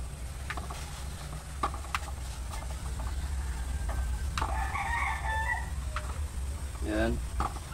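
Chickens cluck close by alongside a rooster's crow and high peeping chicks, heard over a steady low hum on a farm.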